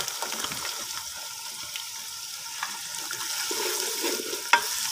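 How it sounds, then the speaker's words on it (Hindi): Onions fry in hot ghee with a steady crackling sizzle, joined by intermittent stirring scrapes and a sharp clank near the end, close by and without speech. "तो प्याज़ों को हम हल्का सा ब्राउन कलर आने तक इसे अच्छे तरीके से भून लेंगे"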